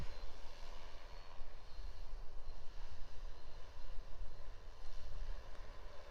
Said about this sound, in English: let's let this drone fly this plan